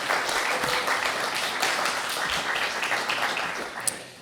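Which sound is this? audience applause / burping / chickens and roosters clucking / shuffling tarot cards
audience applause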